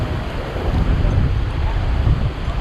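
After heavy rain, Kataldhar waterfall near Rajmachi, Lonavla, sends up a steady, loud, dense roar heard from the top of the falls, with wind buffeting the microphone throughout.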